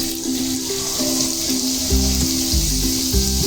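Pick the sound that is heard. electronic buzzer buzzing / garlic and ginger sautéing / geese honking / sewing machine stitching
garlic and ginger sautéing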